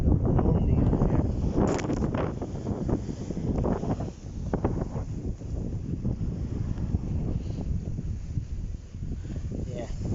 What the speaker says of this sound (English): Wind's blowing over.